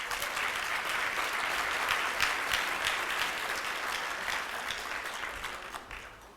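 A large crowd at a charity breakfast event applauds a former Kirkland mayor, sustained loud clapping that fills the room and tapers slightly toward the end.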